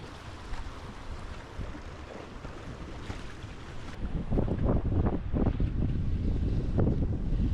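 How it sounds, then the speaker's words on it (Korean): Wind gusting across an open-air spot beside a camper van on a cool, dry day, a steady rushing buffet on the microphone that swells noticeably louder and rougher midway through and stays strong. "바람이 또 부네"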